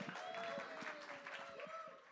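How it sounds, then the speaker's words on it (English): Small club audience at The Bedford applauding a performer, a steady patter of clapping with scattered whoops, fairly quiet and held at an even level for a couple of seconds. "give a massive round of applause one more time for EVEY"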